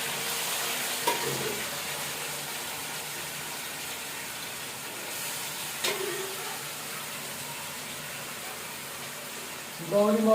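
Beef frying and being stirred in a hot kadai, a steady close sizzle with occasional scraping stirs, and a voice speaking briefly near the end.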